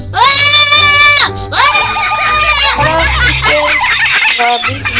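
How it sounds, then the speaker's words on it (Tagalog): A person screams loudly outdoors in two long, piercing shrieks, followed by excited shouting and chatter from several people. "Grabe, sumigaw siya."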